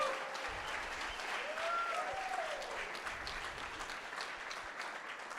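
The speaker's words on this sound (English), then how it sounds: "can we get a round of applause for our judges?" An audience at a business pitch competition claps for the judges, a steady moderate round of applause throughout with a few faint voices mixed in.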